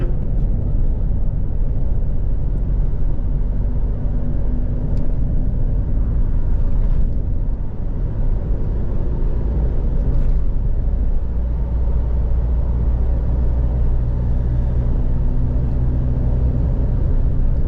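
A straight-piped diesel Mitsubishi Strada pickup held near top speed gives a loud, continuous low droning rumble from inside the cab, steady throughout without breaks or talk.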